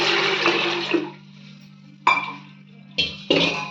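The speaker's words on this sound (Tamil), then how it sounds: "இதுக்கு வந்து எட்டு டம்ளர் தண்ணி எடுத்திருக்கேன் அதை ஊற்றிடலாம்" Water gushes into a metal pressure cooker in a loud burst, pauses, then pours again in shorter splashes over a steady electric hum.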